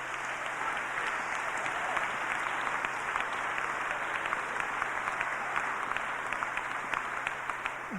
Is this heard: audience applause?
yes